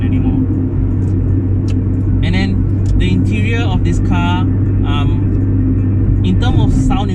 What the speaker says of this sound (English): the owner did install a sport exhaust. So being a 4-speed automatic during high speed, it will always be a constant companion